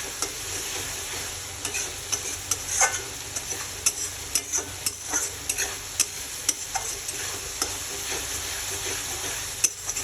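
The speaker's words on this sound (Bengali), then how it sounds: "আর একটু কষিয়ে নেব। তো আমার অলরেডি মশলা থেকে তেল ছেড়ে দিয়েছে।" Chicken masala stir-fried in oil, Bengali style, with a continuous soft sizzle and repeated sharp clicks of a spoon stirring against the pan, fairly close and without speech.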